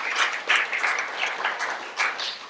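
Audience applause at a Dynamics 365 user group meeting in Bristol, a steady wash of many hands clapping for a couple of seconds with no voices over it.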